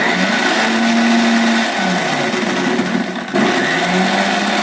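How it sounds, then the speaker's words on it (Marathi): A mixer grinder whirs loudly and steadily as it blends mint chutney into a fine paste, a dense continuous motor roar with a brief dip near the end before it resumes. "आपण हे मिक्सरला लावूया आपण आता ह्याची पूर्ण बारीक पेस्ट करून"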